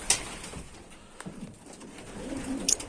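Soft pigeon coos rumble low under a faint ambient hiss from a loft of breeding pigeons, with a couple of brief higher chirps near the start and end.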